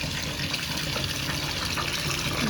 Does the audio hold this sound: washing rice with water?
yes